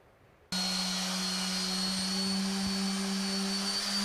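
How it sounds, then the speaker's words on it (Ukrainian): A power sander works a tabletop of two wooden boards joined by a strip of clear resin with dried flowers, in a basement workshop; the steady, loud motor whine starts abruptly and holds constant throughout, with no talk. "Іван Воєділо шліфує стільницю."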